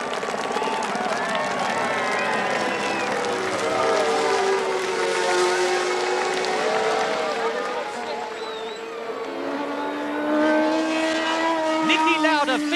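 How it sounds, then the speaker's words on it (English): Formula 1 cars race at the 1977 British Grand Prix at Silverstone, their high engine whines rising and falling as they pass under a commentator's continuous talk, with crowd noise in the background. "The victory clenched fist, and James Hunt crosses the line to win the British Grand Prix."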